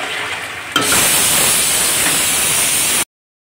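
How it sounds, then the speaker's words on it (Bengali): Yogurt-marinated chicken pieces drop into hot masala for a chicken curry, setting off a sudden loud, close sizzle that flares up and holds steady as a broad hiss until it cuts off. "দেখো মশলাটা দিয়ে আমি এবার দিয়ে দেবো চিকেনগুলো।"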